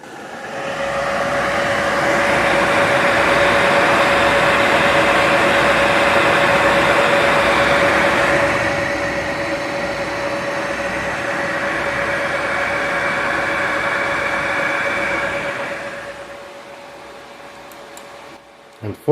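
An ASRock Steel Legend 9070 XT graphics card fan roars at full speed with a loud, steady broadband whoosh and a constant tonal whine, dropping to a slightly lower level partway through before cutting off near the end.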